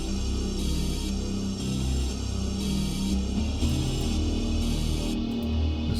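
Spacey synth riffs layered with a bass riff, all played on the same Supercluster patch: sustained shimmering tones over a pulsing, rhythmic low bass line, steady and full throughout with no voice.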